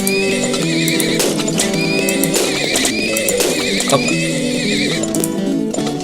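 Horses in the oil tycoon game Turmoil neigh and whinny repeatedly in loud, bright overlapping calls over a musical game backdrop, with a brief exclamation from a man.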